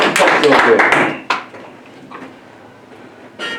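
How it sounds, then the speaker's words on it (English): A burst of clapping and crowd noise from a room full of people, then it quickly dies down to a quiet murmur. "give them a round of applause"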